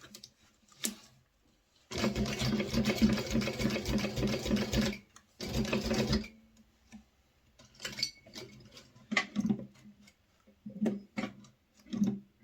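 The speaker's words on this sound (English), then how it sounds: "You want to make sure that you're sewing right up along where that snap tab sits" A sewing machine runs a steady stitching burst along the side seam of a minimalist wallet beside a snap tab, pauses, then sews a shorter run; scattered handling clicks and rustles follow in a quiet room.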